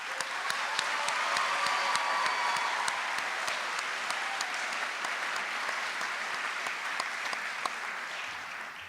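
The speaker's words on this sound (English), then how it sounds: "So a round of applause for them once more." Sustained applause from a crowd at a high school graduation ceremony, a dense, even wash of clapping that holds steady for several seconds before easing off at the end.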